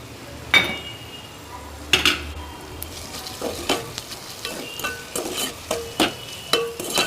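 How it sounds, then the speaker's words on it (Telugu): A ladle stirs turmeric, chili powder and salt into a taro and egg curry, giving rhythmic metal scrapes and clinks against the pot over a soft, constant sizzle. "ఇలా యాడ్ చేసుకొని గరిటెతో బాగా కలిసేలా తిప్పుకోవాలి"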